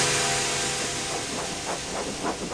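Loud steam hiss dominates, with rhythmic chuffing pulses emerging as a steam train rolls slowly closer into a station.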